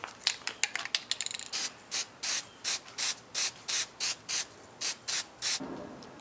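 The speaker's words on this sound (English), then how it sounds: "I'm just going to spray the cap." A walking stick cap is spray painted flat black camouflage with an aerosol can, first in quick short hisses, then about a dozen evenly spaced longer bursts, close and fairly quiet.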